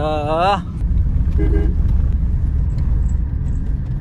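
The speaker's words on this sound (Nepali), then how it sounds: "उकालोमा त यस्तो तानिरहेको नि यो गाडीले पुरा।" A Tata Tiago EV pulls uphill on a mountain road in Nepal. It is heard from inside as a steady, loud low rumble of road and cabin noise, and a voice talks briefly at the start.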